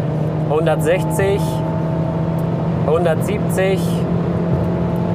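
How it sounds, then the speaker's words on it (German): A Mercedes GLA SUV accelerates hard after a kickdown, its engine giving a steady, droning hum inside the cabin. Someone talks over the engine throughout. "So, Kickdown, Auto beschleunigt 140, 150"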